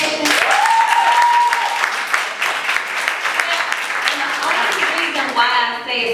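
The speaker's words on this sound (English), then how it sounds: "Can we clap it up for education?" A live audience claps for education, a loud dense round of applause filling the whole stretch, with a voice talking over it and some tonal sound near the start.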